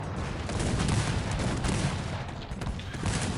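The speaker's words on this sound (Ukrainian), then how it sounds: "О! Дивіться, тут у нас гармати. нам стреляют" Continuous dense gunfire and cannon booms with crackle in the video game Cossacks 3, steady and moderately loud, with no pauses.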